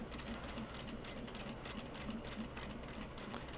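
Sewing machine stitching a seam on knit fabric, a quiet steady rapid whirring stitch rhythm running the whole time, faint and close, with no voices.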